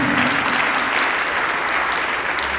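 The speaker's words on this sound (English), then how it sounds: "can you give a round of applause" Loud, dense applause from an audience at a crime indaba conference, continuous clapping filling the room without pause for the whole stretch.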